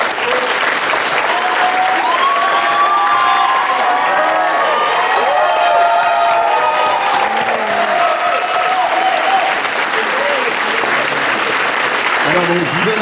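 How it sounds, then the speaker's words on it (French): An audience gives sustained applause for Sylvain Delfau at the Radio Laser 30th anniversary celebration, a dense, even clapping that fills the whole stretch, with a few voices mixed in. "donc on peut l'applaudir, voilà. Bravo Sylvain."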